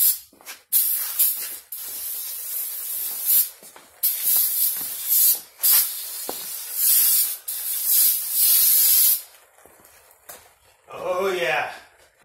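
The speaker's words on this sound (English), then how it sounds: "Get the brake parts cleaner and spray off all around" Brake parts cleaner is sprayed around the rear drum brake shoes of a Jeep Wrangler in long, loud hissing bursts with short pauses, followed by a brief voice at the end.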